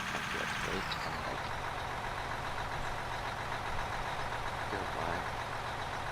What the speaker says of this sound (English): why is the truck so loud?